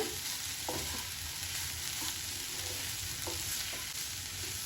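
Beetroot and grated coconut stir-fry in a pan on high heat for beetroot poriyal, with a continuous sizzle and occasional sharp scrapes of the spoon against the pan.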